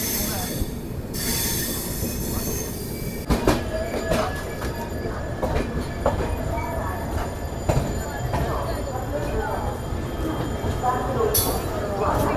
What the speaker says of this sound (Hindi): ये अभी बगल से क्रॉस हुई एमपी संपर्क क्रांति एक्सप्रेस